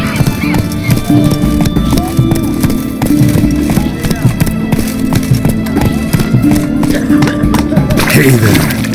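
A horse gallops in The Witcher 3, with steady rapid hoofbeats, snorts and a brief whinny near the end, while game voices talk over it.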